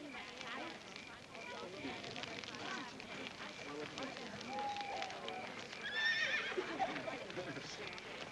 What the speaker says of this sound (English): Hey, John, we saw this horse when we were out riding today. It was really wild. It was scared and jittery